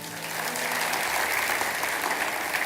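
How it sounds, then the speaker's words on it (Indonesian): A church congregation breaks into dense, sustained applause for God during a sermon, a broad wash of many hands clapping at once, with a faint low voice fading out early. "kalau Anda bangga, gereja Anda begini, kasih tepuk tangan dong untuk Tuhan"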